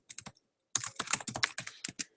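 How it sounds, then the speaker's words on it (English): Close keyboard typing in quick bursts of clicks, a brief flurry, a pause, then a longer run of rapid keystrokes. "Sorry that you can hear me typing."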